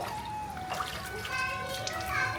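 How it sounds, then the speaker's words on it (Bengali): A small girl bathes herself, with light water splashes and sloshing mixed with a voice and other talk, close and continuous. "তো গোরাঙ্গি নিজে নিজে স্নান করছে"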